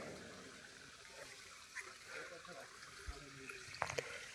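Irrigation water driven by two pump motors pours through a groundnut field in a steady, rushing gush, fairly faint and continuous, with a few brief knocks and splashes near the end.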